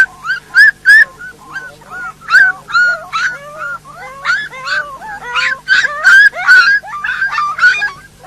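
A Kangal puppy whimpers and yelps in a rapid, continuous series of high-pitched cries, loud and close, with no talking.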